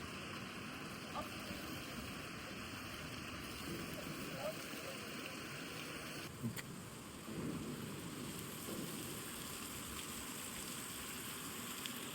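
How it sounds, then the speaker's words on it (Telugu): Heavy rain hisses in a dense, constant wash, with a low rumble underneath and faint voices now and then. "వర్షం ఎక్కువైతుందిరా."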